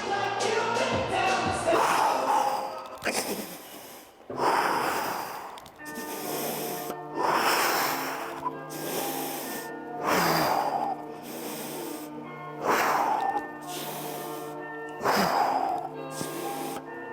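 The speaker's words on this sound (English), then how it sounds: "Breathing in." A person doing an ab exercise breathes in and out forcefully in a steady repeating rhythm, sharp gasping inhales and hissing exhales recurring every couple of seconds, close and loud over faint tonal background.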